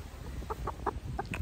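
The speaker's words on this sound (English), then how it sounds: "Here we have the Austrolop hen." An Australorp hen clucking in a short run of soft, evenly spaced notes at close range over a low background rumble.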